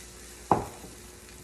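Cornstarch-coated tofu dropped into oil preheated to 375 degrees gives one sudden close splash and sizzle that quickly fades to a faint hiss.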